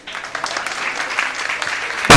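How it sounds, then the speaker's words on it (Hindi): Audience clapping at a Jain religious ceremony for children, a dense steady patter of many hands sustained for about two seconds, moderately loud and somewhat distant, ending in a sharp louder burst at the close. "ताली तो बजा दो एक बार।"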